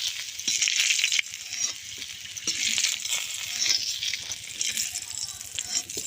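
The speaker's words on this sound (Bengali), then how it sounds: "আমি কাঁচা লঙ্কা জিরে এই মাছ ভাজার তেলে একটু ভেজে নেব" Green chillies and cumin seeds fry in oil left over from frying fish, giving a steady, close, hissing sizzle with faint crackles throughout and no talking.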